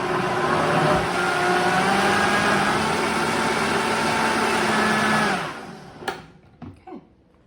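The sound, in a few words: blender mixing double fermented kefir with baobab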